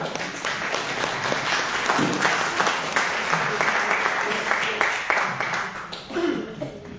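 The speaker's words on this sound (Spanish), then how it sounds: "¿Le quieren dar un aplauso al Señor por su palabra?" A congregation at a Catholic Charismatic Renewal gathering in the Diocese of Talca applauds in worship, dense sustained clapping that swells and carries on for several seconds, with a few voices and laughs mixed in.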